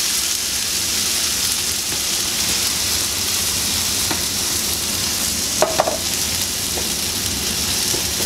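A vegetable sauté for borscht frying in a pan, starting to scorch, with tomato paste poured in: a loud, continuous close sizzle holds throughout, broken by a few brief clinks and a wet splatter near the middle.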